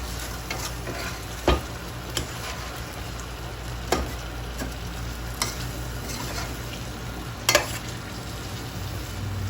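Steady sizzling and bubbling of Surinamese chicken stew cooking in a pan with added water, with a few sharp clinks of a utensil against the pan, no talking.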